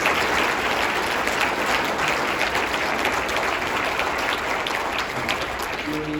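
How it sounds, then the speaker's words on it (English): Large crowd applauding at a State of the City address in Guelph, sustained dense clapping from many hands that holds steady throughout before thinning slightly at the end. "Can we just give them a huge round of applause?"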